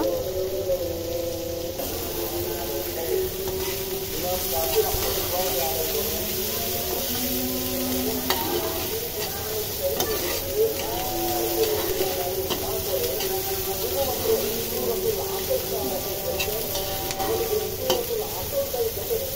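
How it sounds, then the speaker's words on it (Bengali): Chopped onion and garlic fry in hot oil after pumpkin pieces, a continuous sizzle with spatula stirring and occasional scraping clicks, steady and close, with no talk. "এখন এই তেলের ভিতরে দিয়ে দিয়েছে পেঁয়াজ কুচি আর রসুন কুচি ভেজে নেওয়ার জন্য।"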